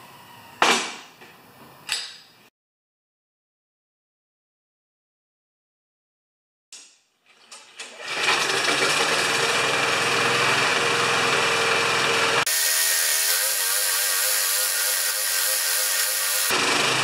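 A 4HP Briggs lawn mower engine gets a few sharp pull-start tugs, falls silent, then catches and runs at a loud, steady drone that shifts pitch midway, heard close with no talking.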